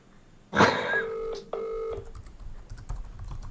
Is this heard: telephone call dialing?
yes